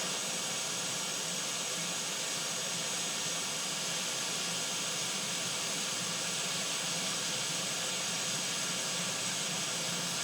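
Steady broadband hiss of a hot air rework station blowing onto the underside of an Xbox Series S motherboard to melt HDMI port solder, a constant airy rush with no change in level.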